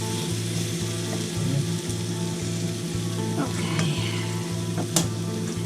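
Thin beef strips and garlic fry in a pan with a dense, steady close sizzle and hiss, broken by a few light utensil taps; a voice speaks a single brief word.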